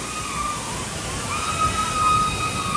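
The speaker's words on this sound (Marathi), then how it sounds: "इथे पण एक छोटा धबधबा आहे" A small waterfall outdoors gives a steady close rush of falling water, a constant hiss with no breaks across the short stretch.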